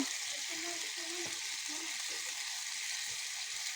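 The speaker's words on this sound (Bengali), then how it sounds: "মিষ্টি লাউ দিয়ে একটু নাড়াচাড়া করি" Sweet pumpkin frying in a pan for khichuri gives a steady soft sizzle throughout, with a few faint stirring scrapes and a low murmuring voice beneath.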